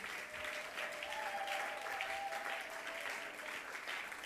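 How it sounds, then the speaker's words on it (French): A church congregation applauds and acclaims Jesus in steady, dense clapping and cheering that fills the space, with a sustained vocal tone rising above the crowd. "Je te laisse le temps d'acclamer Jésus"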